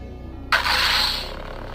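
Lightsaber ignition from the Dark Empress (Darkside Rey) sound font on a Centurion battle staff, a sudden bright crackling surge that settles into a steady buzzing hum after near-silence.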